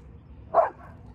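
A reactive schnauzer-doodle dog gives a single short, sharp bark at other dogs, close and loud, over a low background rumble.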